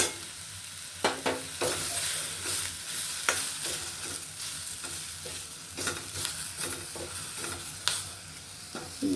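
Masala powder, including coriander powder, fries in a pan while a spoon stirs it, giving repeated close scraping strokes over a continuous soft sizzle, with no talking.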